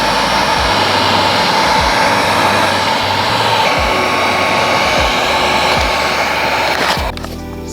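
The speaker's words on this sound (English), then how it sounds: "now we're just gonna hit it with the heat gun" A heat gun blasts hot air onto wrinkle black paint on an engine valve cover, a loud, steady, close roaring whoosh that cuts off near the end.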